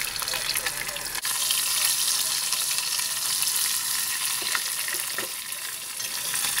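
Crispy oyster pancake batter fries in a fairly deep pool of oil, giving a loud continuous sizzle with crackling pops and a brief clatter near the start.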